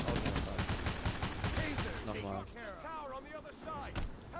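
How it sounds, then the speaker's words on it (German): Rapid gunfire crackles through a firefight in the heist game Payday, a dense burst of shots over the first half before sparser reports, with someone talking excitedly over the shooting. "Boah, ich wurde gerade heftig vom Sniper getroffen."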